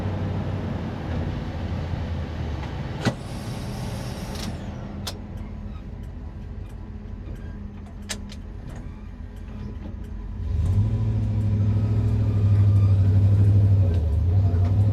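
A 1977 Ford F-150 Ranger XLT 4x4 short-bed pickup with a four-speed manual, driving with a steady engine rumble from inside, with a few sharp clunks of gear shifts and the engine note rising louder near the end.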